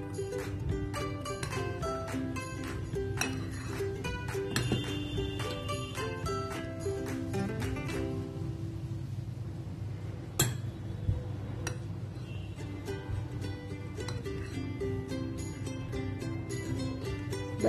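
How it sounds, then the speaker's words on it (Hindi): Sponge cake batter being mixed with flour in a bowl, a steady run of light clinks and scrapes from utensil against bowl over a low continuous hum, close and fairly quiet. "अब इसको थोड़ा थोड़ा सा रिफाइंड फ्लावर डाल के मिक्स करते रहेंगे।"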